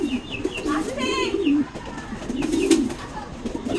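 Soft, warbling pigeon coos repeat at close range over faint background noise, with a few light chirps mixed in.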